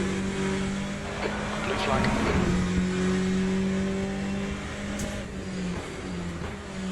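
A faster-class race car approaching in the Le Mans Ultimate racing game, a steady loud engine drone with shifting tones under the player's own car, while a voice speaks briefly.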